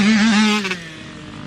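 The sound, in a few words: Yamaha YZ65 dirt bike riding a lap on a track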